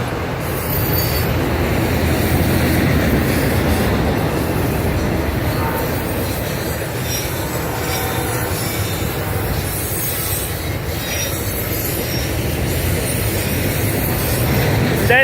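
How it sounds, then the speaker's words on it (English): A BNSF autorack and intermodal freight train rolls past on the track nearby, a loud continuous rumble with wheel squeal and rattling cars throughout. "That's 6 trains right there."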